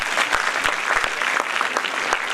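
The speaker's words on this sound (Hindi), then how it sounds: "बच्चियों, अपने लिए जोरदार तालियां बजाओ।" A group of girls claps loudly and continuously at a school prize ceremony, with a few sharper individual claps standing out from the dense applause.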